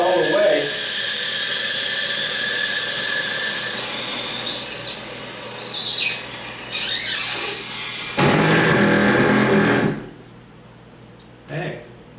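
A toilet fill valve keeps running after being turned almost fully off, giving a steady water hiss with shifting squeaky tones. Voices talk over it, and the hiss drops away near the end.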